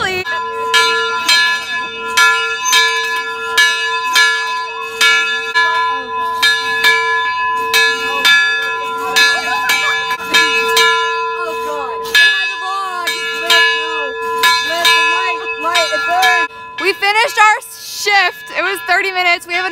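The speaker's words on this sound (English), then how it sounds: "We rang the bell!" A bell rung repeatedly in quick, steady strikes with bright ringing overtones, loud and close, amid cheering voices during a homecoming event, ending in a burst of crowd noise.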